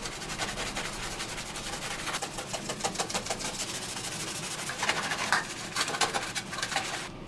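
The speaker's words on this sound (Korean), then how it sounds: "휴지거리를 닦아볼게요." A stainless steel toilet paper holder in a bathroom gets scrubbed hard to remove rust, a close, rapid back-and-forth rubbing and scratching that keeps up steadily with brief pauses, no speech.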